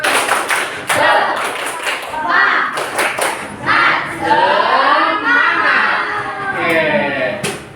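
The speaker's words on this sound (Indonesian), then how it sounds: "Tepuk semangat" A group of people does a rhythmic spirit clap, sharp bursts of clapping and thumps in a patterned beat, mixed with voices calling out and speech over the top.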